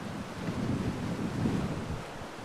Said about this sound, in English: It's also a very, very windy day today.